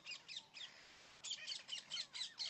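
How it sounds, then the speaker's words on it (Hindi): Parrots chirping outdoors, a string of bright, sharp calls in quick bursts, with a short pause and then a faster run of repeated chirps, moderately close and with no talk over them. "ये तोते होते हैं भाई,"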